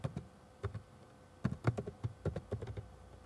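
Typing on a computer keyboard while entering header values in a Numbers spreadsheet: soft, close keystrokes in short irregular bursts, quiet and with no voices.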